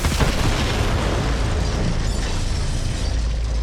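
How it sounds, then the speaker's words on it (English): Bomb explosion in the Borderlands 3 video game, set in a forest: a loud, dense blast with heavy low rumble and crackling debris sustained throughout. "The explosion echoed through the forest"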